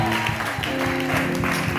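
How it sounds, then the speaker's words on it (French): A church congregation claps loudly in quick, rhythmic bursts over sustained tonal sound, filling the room throughout. "Est-ce qu'on peut applaudir très fort?"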